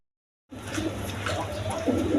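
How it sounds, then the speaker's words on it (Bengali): Gorra pigeons coo in a loft after a brief silence, low repeated throaty calls overlapping against a soft background murmur. "প্রচুর ডাকতেছে গররা কবুতর"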